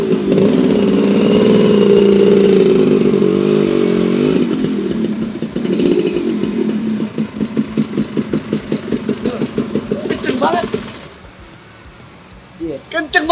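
A two-stroke Vespa motorcycle engine idles and revs hard, then runs in rapid pulsing bursts before dropping away, with a few sharp blips at the end.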